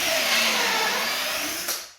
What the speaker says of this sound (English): So I've just got my cordless 12 mil drill bit in there